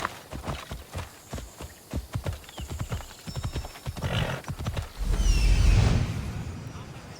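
A horse gallops in Assassin's Creed Odyssey, a rapid rhythm of close hoofbeats clip-clopping steadily before a brief whinny and a louder rush of movement near the end, with a voice speaking over it.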